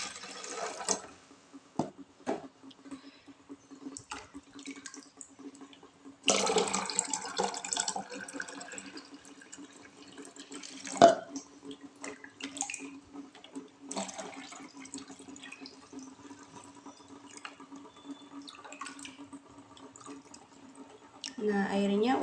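Water trickles and drips through a homemade filter on its fourth pass, faint splashing and dripping that comes and goes in bursts, heard beneath a person talking.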